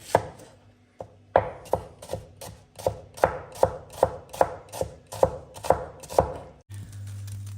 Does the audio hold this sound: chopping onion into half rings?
yes